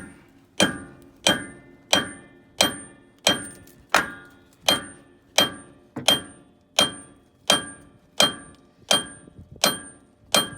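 Steady metallic hammer blows on a front wheel stud of a 2007 Freightliner Columbia truck ring out one after another, about fifteen sharp strikes at an even pace, each with a bright clanging ring.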